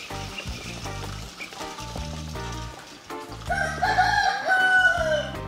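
A rooster crows and chickens cluck, the rising crow standing out near the end over a steady rhythmic beat with no voices.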